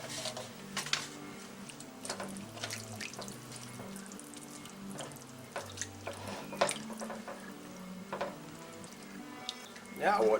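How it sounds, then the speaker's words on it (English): Water runs into a kitchen sink as a pot from making McCormick beef stew is washed, a steady splashing stream with small clinks and drips under a person talking nearby. "set that over in the sink so we can wash it"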